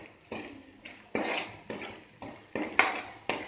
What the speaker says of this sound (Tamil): வாசனை துறை பொடி எல்லாத்தையும் அதையும் மிக்ஸ் பண்ணிடுறேன்.